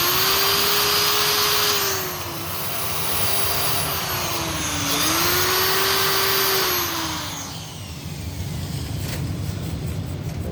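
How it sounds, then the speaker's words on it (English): A rotary wheel grinds burrs off a Ford 302 connecting rod, a loud steady whine with pitch dipping and rising as it loads against the metal, easing off near the end into quieter shop noise. "I'm going to go after it with a wheel right now."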